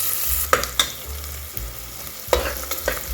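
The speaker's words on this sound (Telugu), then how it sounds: "అదే ఉల్లిపాయలు ఏదైతే ఉన్నాయో అవి ఇక్కడ ఫ్రై అవుతున్నాయి." Onions fry in a pan for mutton gongura curry with a close, steady sizzle, broken by a few sharp scrapes and knocks as they are stirred.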